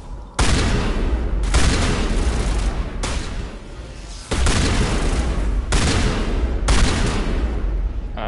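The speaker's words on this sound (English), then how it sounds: "Oh, that shotgun's not very good" Mass Effect shotgun blasts boom out loud and close, six heavy shots spaced roughly a second apart, each with a short rumbling tail.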